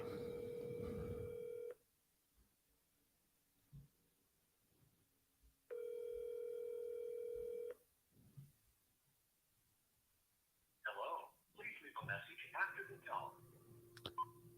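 An outgoing phone call rings out while someone cold calls a for-sale-by-owner home seller. Two long ringback tones are separated by silence, then a voicemail greeting begins.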